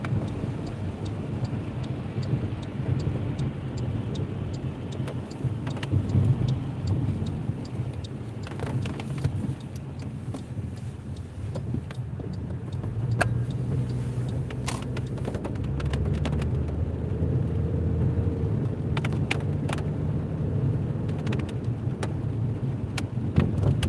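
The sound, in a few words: car driving on a city street in the rain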